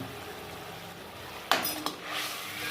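Spoon scraping and clinking against a pan while spices are mixed into dhaba-style fried dal mash, a couple of brief metallic strokes over a quiet background.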